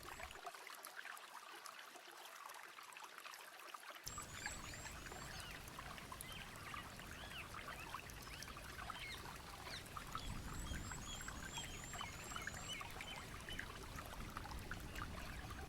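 Water flowing and trickling through an Amazon rainforest stream, a steady close rushing and pouring wash that carries on without pause, with faint insect or bird chirps drifting in behind it.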